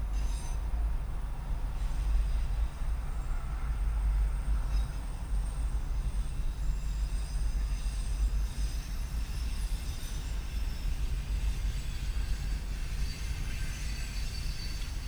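A Union Pacific freight train rolls through downtown Kirkwood, Missouri, near the Amtrak station on a cold day, heard from inside a car: a continuous low rumble of wheels and cars with faint high wheel squeals over it.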